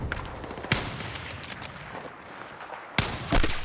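Sniper rifle fire in the video game Battlefield 6, two sharp, loud shots about two seconds apart standing out over steady rumbling battlefield ambience.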